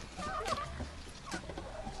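Young chickens cluck softly nearby, with a few short chirping calls over a quiet background.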